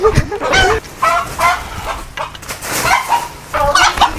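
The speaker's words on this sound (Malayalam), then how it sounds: "ഇത് നാടൻ കോഴിയാണ്" Native country chicken clucking and squawking close by in repeated bursts, loud and agitated, with short pauses between calls.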